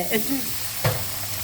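Coconut milk hits frying masala for a fish curry, and a short, close burst of sizzling follows, with a brief spoon scrape in the pan and no speech.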